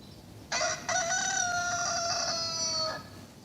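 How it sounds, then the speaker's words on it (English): A single rooster crows one long, loud, sustained cock-a-doodle-doo close by, rising sharply after a brief catch and then holding steady before cutting off, over a quiet background hiss. "The cock crowed."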